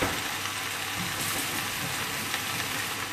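Peppers, onions and mushrooms fry in a pan with a steady, close sizzle that holds even throughout, with no talking.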